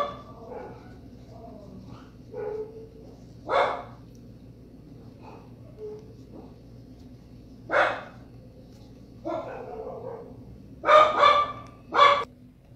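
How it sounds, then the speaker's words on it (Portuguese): A dog barks in several separate bursts spread out over quiet stretches, fairly close, with a quick double bark near the end. "Cachorro late na hora errada"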